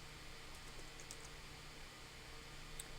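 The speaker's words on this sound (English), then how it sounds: "Let's type in gematria Thursday." Typing on a computer keyboard, a quiet run of close key taps over a steady background hiss, no talking.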